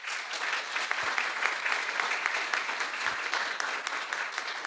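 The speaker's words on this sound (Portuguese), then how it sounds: "Então, aplauda Jesus." Church congregation applauding during a worship service, a steady, fairly distant patter of many hands clapping throughout with no clear voices.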